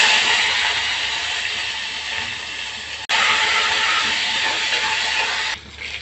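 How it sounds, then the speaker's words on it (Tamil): Mustard seeds, dried red chillies, a pinch of turmeric and curry leaves crackle in hot oil for a buttermilk kuzhambu, giving a loud, steady hissing sizzle that breaks off briefly midway and drops away near the end. "கடுகு போட்டுங்க. காஞ்ச மிளகா, இன்னும் கொஞ்சோண்டு ஒரு சிட்டிக்கு மஞ்சள் போட்டு கருவேப்பிலை"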